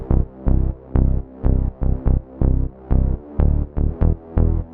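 Layered synth bass for melodic house, a wavetable patch with its subs cut stacked with another bass, pulsing in about ten evenly spaced punchy notes, loud and alone.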